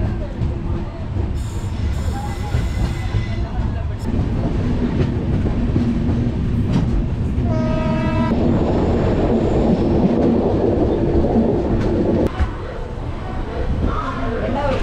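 The Chozhan SF Express (22675) pulls out of Panruti railway station with a loud, continuous rumble and rhythmic wheel clatter, a brief high whine and squeal breaking through midway.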